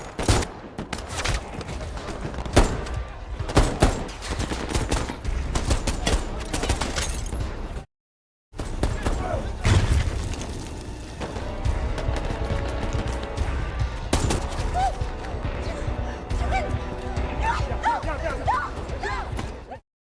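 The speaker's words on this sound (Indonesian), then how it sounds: "Namun bodohnya Gautier menembak salah satu bandit yang menyebabkan baku tembak terjadi." Dense bursts of gunfire crackle continuously in a film shootout with bandits from The Wages of Fear, with rapid shots and heavier bangs, broken by a brief gap of silence.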